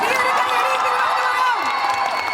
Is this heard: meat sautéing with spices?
no